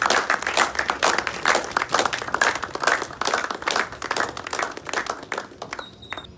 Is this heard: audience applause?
yes